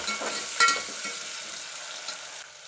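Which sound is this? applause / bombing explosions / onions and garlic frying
onions and garlic frying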